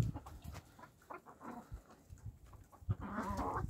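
Young hens in an enlarged outdoor run on a frosty December day give soft clucks and short calls, scattered and fairly close, with quiet gaps and a busier burst of clucking near the end.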